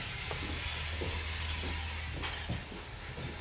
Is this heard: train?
yes